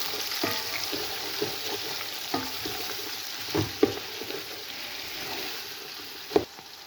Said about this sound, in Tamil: வெங்காயத்தை தாளித்து நான் எடுக்க போகிறேன்